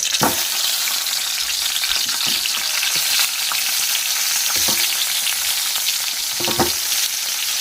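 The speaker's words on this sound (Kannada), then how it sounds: "ಇವಾಗ ಎಣ್ಣೆ ಕಾಯ್ಕಿಟ್ಟಿನಿ ಈಗ ಮಸಾಲೆ ತುಂಬಿದಂಥ ಬದ್ನಿಕಾಯಿ ಹಾಕೊಂಬಿಡಣ" Masala-stuffed brinjals fry in hot oil with a loud, steady sizzle close by, broken by a few soft clicks and scrapes of stirring.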